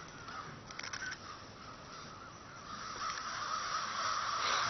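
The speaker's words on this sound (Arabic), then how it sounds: "حاول طير هدول اللي اسمه الغربان، شوفوا" Crows in a park, their caws faint and scattered over a steady outdoor background that grows louder toward the end.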